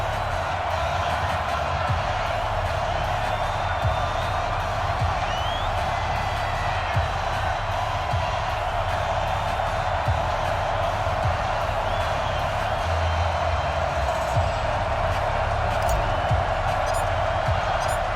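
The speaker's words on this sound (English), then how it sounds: "a moment ago they entered to the delight of this sold-out crowd" A sold-out stadium crowd roars continuously in a Madden NFL 20 football game between the Bills and Dolphins, a broad steady wash of cheering with a commentator talking over it.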